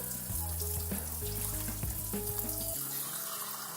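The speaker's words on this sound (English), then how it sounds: "I'm going to fill a pot with 4 cups of cold water." Cold water running from a kitchen tap into a pot, a steady splashing hiss close by that drops off abruptly near the end as the flow stops.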